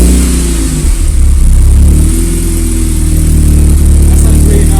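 A 1972 Classic Mini fitted with a swapped-in Honda VTEC engine revs loudly and close up while standing still, its engine note rising and holding in a steady, throaty roar.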